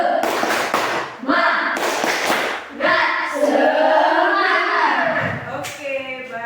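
A primary-school class in Indonesia does a rhythmic 'tepuk semangat' clapping chant, with sharp patterned claps mixed with children's and a teacher's chanting voices, close and loud throughout.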